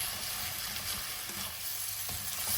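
Mickey noodles are stir-fried in a pan with chow mein sauce for a vegetarian chow mein. A dense, even sizzle continues throughout, with faint stirring scrapes underneath.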